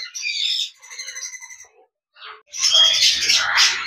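Eclectus parrots in an outdoor breeding setup give bursts of loud, harsh squawking calls, a few chattering calls, a short pause, then a louder raucous burst, close by.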